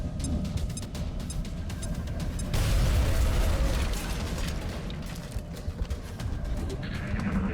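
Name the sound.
grenade thrown and exploding in video game XCOM Enemy Within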